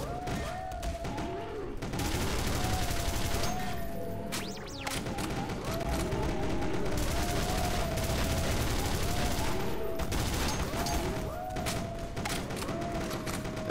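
Gunfire from the video game E.Y.E. Divine Cybermancy, dense repeated shots and thuds in a steady loud battle din with game tones and muffled voices mixed in throughout.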